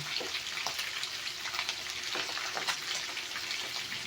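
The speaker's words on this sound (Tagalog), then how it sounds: "So habang piniprito natin itong isda guys" Milkfish sizzles steadily as it fries in a pan of hot oil, a dense continuous crackle with scattered sharper pops, close and fairly loud, with no talking.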